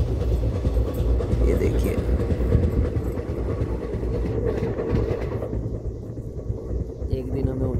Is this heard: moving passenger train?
yes